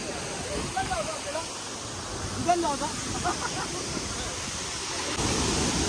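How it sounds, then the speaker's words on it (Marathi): Dudhsagar waterfall in Goa roars as a constant broadband rush of falling water, with faint voices talking under it. "बघू शकता वॉटरफॉल काय झकास आहे."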